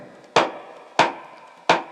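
Three sharp, close snaps as a middle finger flicks down onto the wooden body of a cigar box guitar, acting as a snare, each a crisp crack with a short decay, evenly spaced with quiet between.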